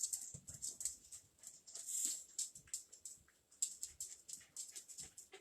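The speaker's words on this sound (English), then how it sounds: "Rosie, listen to that barking." A dog makes faint, close yips and whimpers in quick, uneven bursts mixed with panting, alone in a quiet room.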